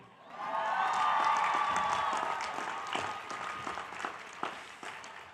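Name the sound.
audience applause for parents at graduation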